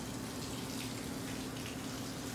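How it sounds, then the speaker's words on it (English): Tap water pours steadily into a bathtub as it fills, a constant close rushing splash with no pauses and no voices. "Let's go take a bath. Lali, the water is running."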